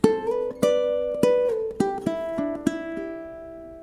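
A ukulele strums a short intro: bright chord strokes at a steady, unhurried pace, the chords shifting as it goes, played alone and close.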